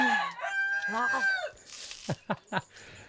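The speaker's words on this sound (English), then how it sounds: "Roosters are loud." A rooster crows from a short distance outside a small shop on a small island near Bali, over a couple of seconds, followed by a few sharp clucks or clicks; a voice can be heard nearby.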